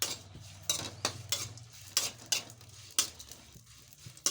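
Red and green chillies frying in oil for mirchi chutney, a soft steady sizzle under a series of sharp scraping and stirring knocks from a utensil against the pan.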